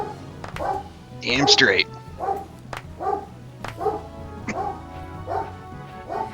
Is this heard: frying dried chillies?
no